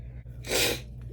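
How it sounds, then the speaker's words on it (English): A single sharp sneeze bursts out, close and fairly loud, over a low steady hum. "I sneezed and now my eyes are watering"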